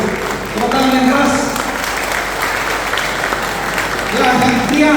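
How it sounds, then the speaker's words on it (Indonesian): Loud audience applause at a joint church service in Malang, East Java, dense and sustained clapping mixed with crowd noise and voices throughout. "Tepuk tangan yang keras."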